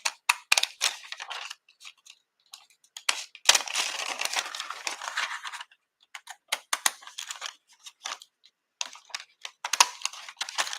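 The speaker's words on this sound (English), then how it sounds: "I'm just going to come in here and use these decorative scissors." Decorative scissors cutting through paper in close, crisp snips and longer crunchy slicing strokes, coming in irregular bursts with short pauses between.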